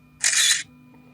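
A single crisp camera shutter click from a Lorex camera watching a Prusa 3D printer, short and bright, standing alone against near silence.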